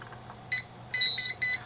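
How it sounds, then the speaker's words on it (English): An ITI SX-V alarm keypad emits a few short, high electronic beeps in quick succession during programming, faint and close, with small gaps between them. "the keypad loves to beep during this"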